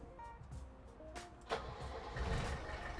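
Diesel engine of a 1988 military Mercedes 240GD cranks and catches, starter whir giving way to a rough rising rumble that settles into a steady idle, heard alone without speech.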